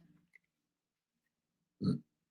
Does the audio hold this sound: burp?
yes